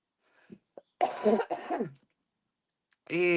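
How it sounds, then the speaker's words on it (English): A few harsh, raspy coughs up close, separated by short silences, ending with a strained voiced sound. "every time I cough, I go dizzy"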